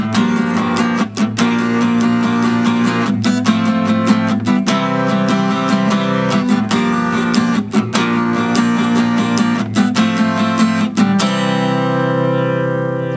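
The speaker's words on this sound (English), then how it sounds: "Just strumming up and down, 16 strums." Steady guitar strumming, minor 7 chords ringing in an even up-and-down rhythm of 16 strums with regular accents, close and loud, then a sustained final chord.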